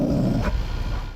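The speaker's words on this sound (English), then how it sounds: "her dog growling" A dog growls from inside a car at a coyote near Lake Mead, a low, continuous rumbling snarl heard close and steady for about a second before cutting off.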